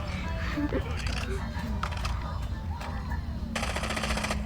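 Rapid gunfire rattles in a shooter video game, bursts of shots running under excited talk from a player, with a dense crackling volley near the end.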